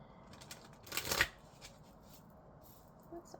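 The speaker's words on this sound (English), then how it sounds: "So let me get some cards from the Osho Zen Tarot." Osho Zen Tarot cards being shuffled, a quick burst of riffling close to the mic with a few lighter flicks afterward in a quiet room.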